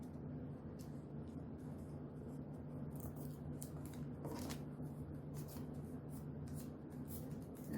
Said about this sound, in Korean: 이렇게 해서 양쪽으로 이렇게 아이스크림 접기를 하였습니다